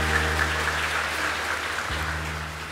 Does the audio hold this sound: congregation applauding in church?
yes